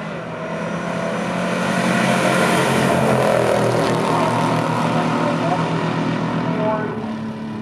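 A 1966 Ford Fairlane and a 1969 Plymouth Barracuda roar down a drag strip in a pure stock race, their loud engine noise swelling as they pass and fading away, with a commentator talking over it.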